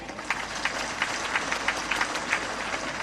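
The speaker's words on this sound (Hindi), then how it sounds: "ये बेटियों के लिए, बहनों के लिए जोरदार ताली हो जाए" Dense, steady applause from a large audience for daughters and sisters, even crowd clapping throughout with faint voices beneath.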